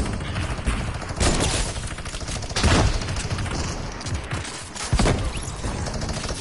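Fortnite gunfire, dense rapid volleys of shots with a few louder bangs, continuous and close throughout, with no voices.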